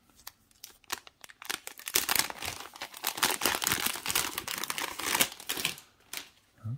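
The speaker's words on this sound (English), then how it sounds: "So to get the plastic off on the top, there is this little tab. No, that didn't work. You just gotta rip it off." Plastic wrap is torn and crinkled off the packaging of an Amazon Echo Show 5, a close, busy stretch of rustling and ripping with sharp crackles that builds after a few sparse clicks and then eases off.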